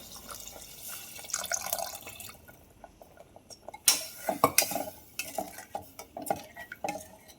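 Rice being stirred with salt and water inside a pressure cooker, giving soft scraping and clinking of a spoon against metal with faint watery swishes, in irregular bursts and close up, with no talking.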